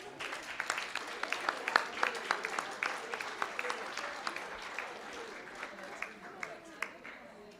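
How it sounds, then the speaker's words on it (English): Scattered, fairly faint clapping from an audience at a school district board of trustees meeting, honoring mentors, with individual claps standing out over a soft, thin background. "Let's give them a round of applause."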